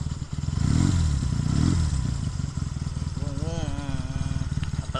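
A 1976 Honda CB200 twin motorcycle idles nearby with a steady low rumbling throb, briefly swelling louder early on, while people talk over it.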